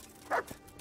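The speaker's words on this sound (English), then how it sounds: "Mutt, are you barking at pebbles?" A single short bark from a mutt in the medieval game Kingdom Come Deliverance, fairly close and abrupt, followed by a faint soft yip against a quiet background.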